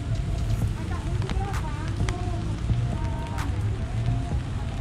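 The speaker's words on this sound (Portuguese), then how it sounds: "Dando um rolê com chuva mesmo." Rain falls on the main square of Poços de Caldas, Brazil, a steady patter on pavement and umbrellas while people walk and talk nearby, with scattered drips and footsteps.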